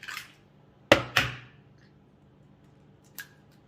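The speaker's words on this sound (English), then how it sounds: "I'm gonna get my bowl and I'm gonna crack in 2 eggs" Two eggs are cracked into a bowl while brownie batter is being made. Two sharp, close taps on the rim come in quick succession, followed a couple of seconds later by a lighter click, with near silence between.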